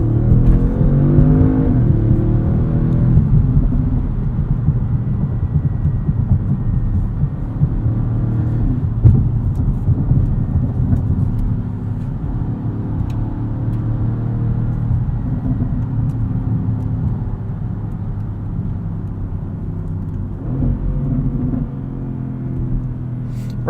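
A 2016 Audi S7 cruising in dynamic mode on a winter road in Michigan gives a steady, loud, low engine rumble throughout, with mild swells in the drone and no talking.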